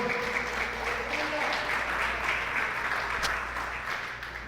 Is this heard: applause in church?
yes